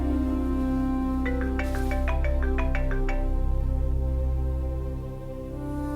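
A phone rings with a short burst of rising electronic tones, bright and close, heard over a loud, steady background hum that continues after the ringing stops.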